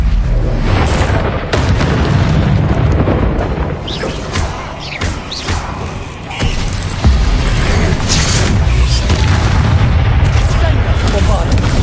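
Loud, dense booming explosions from Bombarda spells in the Hogwarts Legacy video game, repeated in rapid combat with crashing debris and rumbling, overlapped by a voice shouting over the chaos.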